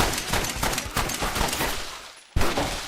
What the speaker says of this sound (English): Seems like I'm just firing one round at a time.